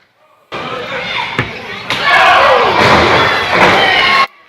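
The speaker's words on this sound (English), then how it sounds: "Listen to the loud, thunderous bitch slap of King Payne." A thunderous slap lands in a professional wrestling match, a sharp thud swallowed by a loud roaring arena crowd that swells and cheers before cutting off abruptly.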